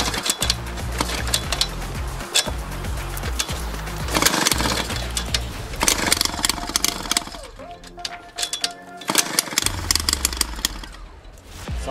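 A Suzuki JR50 two-stroke dirt bike engine sputtering and catching after being taken off choke, with irregular loud bursts, brief revving and uneven popping up close, dipping near the end before picking up again.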